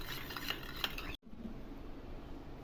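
A spoon stirring two spoonfuls of sugar into a little water in a small bowl to make syrup, with faint clinks and scraping against the dish, a short pause, then quieter swirling.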